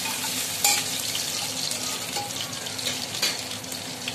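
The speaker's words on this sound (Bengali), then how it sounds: "পাঁচফোড়ন, তেজপাতা আর শুকনো লঙ্কাটা দিয়ে দিলাম।" Panch phoron, bay leaf and dried chilli fry in hot oil with a constant close sizzle, broken by a few sharp clinks of a utensil against the pan.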